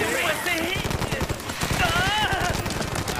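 Rapid gunfire rattles through an action scene in a film about giant lava tarantulas attacking a city, a dense burst of shots layered under shouting voices and music.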